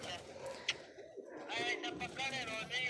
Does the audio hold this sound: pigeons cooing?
yes